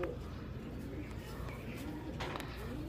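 Soft pigeon cooing sounds faintly amid low background rumble and a few quiet, distant noises.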